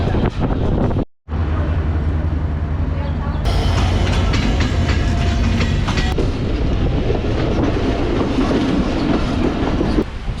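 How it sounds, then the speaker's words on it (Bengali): Banglabandha Express passenger train number 804 at a railway platform, a loud continuous rumble and rolling rattle of carriages with wind buffeting the microphone, up close, with a short dropout early on. "বাংলাবন্ধা এক্সপ্রেস ট্রেন নাম্বার 804।"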